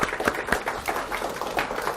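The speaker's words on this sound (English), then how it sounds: "just give them a round of applause." A presentation audience gives a round of applause at a lunch-and-learn event, a steady, moderately distant patter of many hands clapping with a few sharper individual claps standing out.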